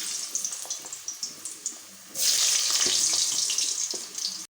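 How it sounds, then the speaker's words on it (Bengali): Potatoes dropped into hot mustard oil, first a few soft taps, then a sudden loud, dense hiss that holds steady at close range with no talking. "আমি প্রথমে আলুগুলো ভেজে নেব।"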